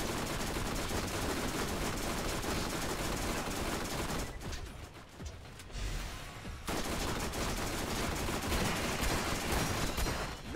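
Rapid, dense gunfire from a railgun or laser cannon in the Borderlands game, a loud sustained barrage that cuts out briefly midway and then resumes at full intensity.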